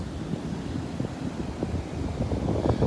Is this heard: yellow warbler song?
no